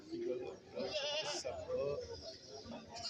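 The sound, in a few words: goats bleating at a goat market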